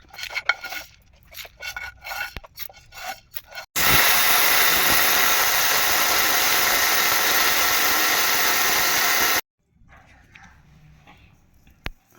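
A mixie jar grinder grinds cooled roasted idli podi spices with a loud, steady, high whirring roar for about five seconds, starting and stopping abruptly, with quieter clattering and handling sounds before and after.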